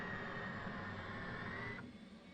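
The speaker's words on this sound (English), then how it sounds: "jet started here" A fighter jet's engine spools up during startup in a flight simulator game on a desert map, a steady loud whine and rumble with a rising tone that abruptly drops away near the end.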